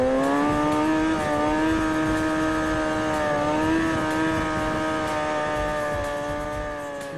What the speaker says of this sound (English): You hear the RPMs jump up.